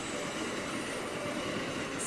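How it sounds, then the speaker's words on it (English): An Acela high-speed train rolls past on a track in the United States, a continuous rushing rumble with a faint rattle of wheels on rails, steady and fairly close throughout. "So the train that just went by, that's an Acela."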